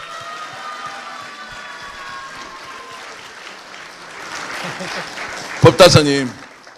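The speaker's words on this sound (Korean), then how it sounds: "끝까지 자리를 지켜주시는 이 상징의 모습에 박수 한번 보내주십시오" Crowd applause at a political rally in central Daegu, saluting a Buddhist monk, swells from faint patter into fuller clapping, then breaks into a few loud, sharp bursts near the end, with voices talking throughout.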